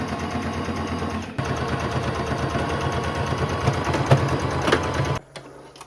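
A sewing machine runs a straight stitch on thrifted clothing, tension set near 7 and stitch length between 2 and 3, giving a steady close whirring hum for about five seconds before it stops abruptly.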